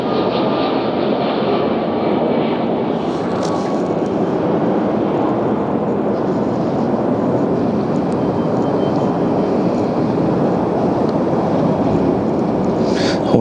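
A Delta 767 heavy airliner touching down firmly at LAX, a steady, loud broadband jet roar that holds throughout without a break and with no talk.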